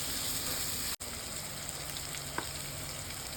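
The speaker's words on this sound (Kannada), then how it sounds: "ಈಗ ನಾನು ತರಕಾರಿ ಹಾಕ್ಕೊಂಡಿದ್ದೀನಿ, ಇದನ್ನು ಫ್ರೈ ಮಾಡ್ಕೊಳ್ಳೋಣ." Vegetables frying in a pan for vegetable upma (uppit), a steady hissing sizzle close by and fairly quiet, broken by a brief dropout near the start and a single faint clink later.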